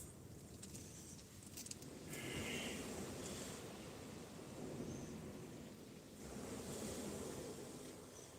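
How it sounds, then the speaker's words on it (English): Rough sea waves break on the shingle beach at Eastbourne, a continuous roaring wash with surging swells and hissing retreats, loud and close with no talk. "Just been down to the edge of the water, and the waves are pretty rough down there"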